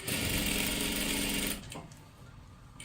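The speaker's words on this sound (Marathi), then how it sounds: "इथून एकदम कडेकडेला शिलाई मारत मारत घ्यायची आहे अशा पद्धतीने" Sewing machine stitching along the edge of a size 40 kurti top, a steady close whir that runs continuously, then stops and leaves quieter handling noise.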